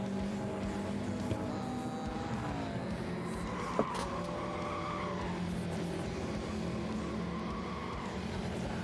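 An Audi TT race car in the Gran Turismo 7 racing game holds a steady, moderately loud engine drone, with squealing, skidding tires and one brief sharp click midway, and no voices.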